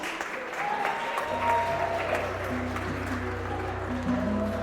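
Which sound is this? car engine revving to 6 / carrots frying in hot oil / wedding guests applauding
wedding guests applauding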